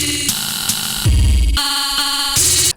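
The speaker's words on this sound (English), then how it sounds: "So the sound I think I keep hearing in Death Grip stuff is Ableton texture mode." A sample warped in Ableton's texture mode and stretched out, then sent through an amp effect on its blues setting, comes out as a harsh, noisy, granular wash that jumps abruptly between different layers over a few seconds.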